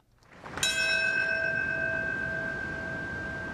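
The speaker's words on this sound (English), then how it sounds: "And that bell in New York City marking the moment when the first plane struck the World Trade Center." A single bell tolling in New York City on the anniversary of the September 11 attacks: one clear struck tone that rings on with a long sustained hum, moderately loud and alone.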